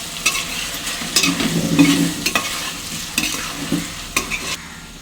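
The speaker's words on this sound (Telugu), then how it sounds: "పసుపు వేసుకుని ఒకసారి మిక్స్ చేసుకోండి" Salt, chili powder and turmeric being stirred into cooked colocasia for a Telugu-style pulusu, with a spoon scraping and clacking against the pan in irregular strokes over a soft sizzle.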